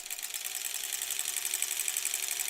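A sewing machine runs steadily while joining quilt pieces for a granny squares quilt, a faint, even high-pitched whirring with a fast regular stitch rhythm throughout.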